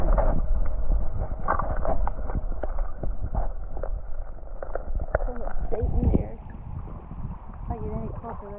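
A boat is paddled upstream on a creek, with repeated splashing paddle strokes and water gurgling close by, while someone talks over them.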